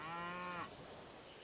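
A single deep cattle moo from Civilization V, clear and fairly close, lasting about half a second before trailing off into quiet ambience.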